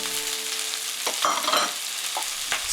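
Onion, pepper and pineapple stir-frying in a hot pan, a steady close sizzle broken by a few scraping stirs.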